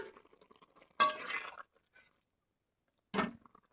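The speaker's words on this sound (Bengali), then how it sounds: "ঢাকনাটা খুলে নেব" A cooking pot lid is lifted off with a sharp metallic clink and rattle, followed by a second shorter clatter after a quiet gap, amid soft faint kitchen noises.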